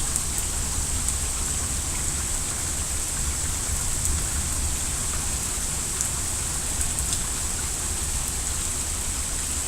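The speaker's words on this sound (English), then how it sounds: "seems like there's so much rain coming down that the drains can't take it" Heavy rain pouring down during a thunderstorm in Texas, flooding a street faster than the drains can cope: a dense, steady hiss of downpour with no letup, close and unbroken.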